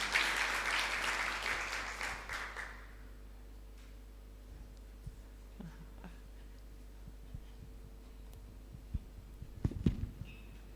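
Audience clapping bursts out loud at a 2024 World Antimicrobial Resistance Awareness Week event, then fades within a few seconds into a quiet room hum with scattered small knocks and shuffles.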